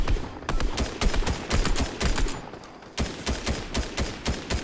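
Rapid bursts of gunfire in a battle-royale video game in duos mode, with dense automatic volleys of sharp shots, a brief pause near the middle, then another quick string of shots.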